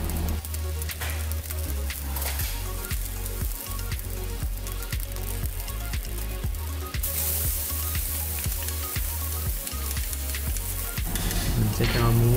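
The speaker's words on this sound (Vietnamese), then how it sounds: "Thì tất cả nguyên liệu này mình sẽ cho lên chảo nóng, mình sẽ cho muối vào trước." Salt, garlic and seasonings stirred and frying in a hot pan for a Vietnamese bamboo-grilled beef dish, with steady loud sizzling and repeated scraping stir strokes throughout, no talking.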